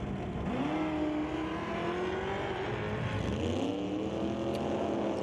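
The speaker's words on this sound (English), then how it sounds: "Sounded like the dart kind of went zinga down there as it went into neutral" Drag race cars launch at an NHRA Northwest National Open Series pro race, with a Dodge Dart among them. Loud, steady engine roar fills the whole clip, and rising and falling engine tones sweep up as the cars accelerate and shift.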